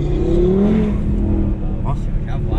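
An Audi TT fitted with nitrous pulls hard after a downshift, its engine note climbing in pitch then settling into a steady loud drone from inside the cabin, with a voice speaking briefly over it.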